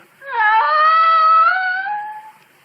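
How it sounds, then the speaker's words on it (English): A cat mewing like a lost kitten, used as a sound effect in a spooky radio drama: one loud, drawn-out, wavering mew lasting about two seconds, alone with no voices. "mewed like a lost kitten"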